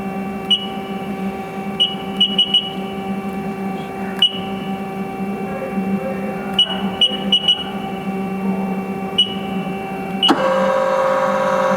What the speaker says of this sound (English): We'll run the live tool.